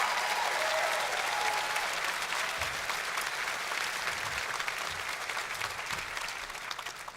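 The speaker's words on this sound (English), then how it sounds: "Please give them a huge applause" Concert crowd applause for a live band in Amsterdam, a large audience clapping densely and evenly, holding steady before tapering slightly at the close.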